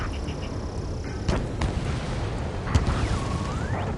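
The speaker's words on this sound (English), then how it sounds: "gunfire and the roar of jets echoing through the streets" Gunfire and distant booms in Ace Combat 7: Skies Unknown, set in a city under martial law with jets overhead, come as a steady rumbling barrage with a few sharper reports and a faint whistling sweep near the end.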